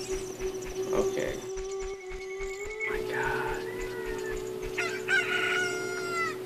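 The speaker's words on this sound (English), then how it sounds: "Look, a chicken hatched from the egg you were incubating." A cucco chicken crowing in the video game Zelda: Ocarina of Time, a drawn-out cock-a-doodle-doo over game music with a hum and background noise, followed by further clucking calls.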